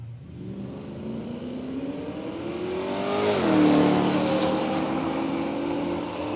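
Drag racing cars at Willowbank Raceway in Australia: a loud engine revs and accelerates with a steadily climbing pitch, peaking as it roars past, then fading slightly as it carries on down the strip.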